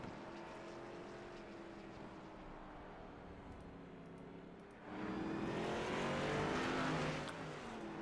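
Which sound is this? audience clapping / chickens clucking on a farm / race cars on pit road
race cars on pit road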